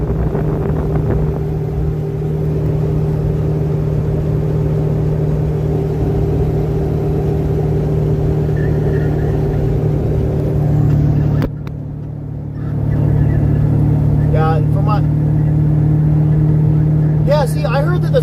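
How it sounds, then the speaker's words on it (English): A car engine hums steadily while climbing the Grapevine grade, with constant road and motor drone that dips briefly midway before resuming; a person talks over it throughout. "B, my friend, I am going up the Grapevine right now."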